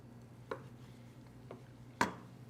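A knife cuts through roasted turkey breast on a board, giving a few separate soft thuds against a faint steady background hum.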